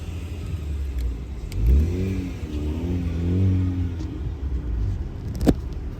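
A car engine revs up and falls back in a mid-frequency rumble, the pitch rising and dropping in uneven surges as if a manual gearbox is being handled clumsily, heard from a moderate distance over steady background noise with a sharp click near the end.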